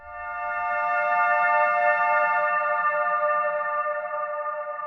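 A lush, sustained harmonic pad made from vocals, drenched in reverb and echo, swelling in quickly and holding steady with a shimmering, spacious tail.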